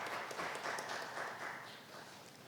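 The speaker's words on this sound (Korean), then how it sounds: "큰 박수로 맞이해 주시기 바랍니다." Audience at a public-sector HR conference opening session applauds to welcome keynote speakers, a steady wash of clapping that fades slightly toward the end.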